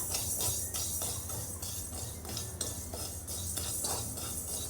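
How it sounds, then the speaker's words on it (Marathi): Fenugreek seeds stirred and dry-roasted in a kadhai, with a steady scraping and rattling of the spoon against the pan that comes in rhythmic strokes, close and clear, with no talking. "अगदी मेथीचा हलकासा रंग बदलेपर्यंत आपण छान असे परतून घेऊया"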